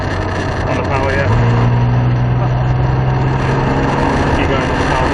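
A car engine pulls under throttle during a car chase driving experience on a track. A steady, loud, close drone steps up in pitch and holds there as power is kept on.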